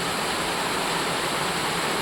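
Rain pours onto an open terrace with white floor tiles, making a dense, unbroken roar of falling water that stays loud and even throughout, with no voices.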